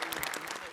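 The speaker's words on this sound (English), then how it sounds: "Let's stand and give a round of applause for the candidates" Brief burst of loud clapping from an audience at a candidate forum, dense and continuous, with faint voices mixed in.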